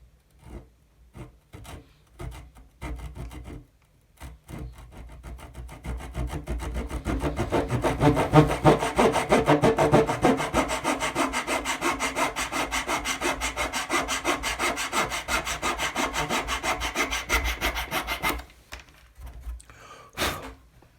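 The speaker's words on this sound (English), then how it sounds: "So what I'm going to do now is just take the razor saw and I'm just going to trim these back." A razor saw cuts steadily back and forth through curved wooden capping on an HMS Victory model ship, a close, rhythmic rasping stroke that builds and runs for about ten seconds after some lighter scraping.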